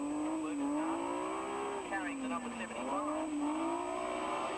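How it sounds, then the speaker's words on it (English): A rally car at a Canberra rally sprint swings through a corner, its engine note rising and falling as it is flicked and accelerated, heard at moderate distance with a steady high whine running throughout. "Setting the car up, flicking it before he gets to the corner."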